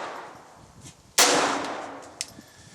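A single sharp .22 LR shot from a Glock 17 fitted with a Tactical Solutions TSG conversion, loud and close, with a short ringing tail and a faint metallic clunk after.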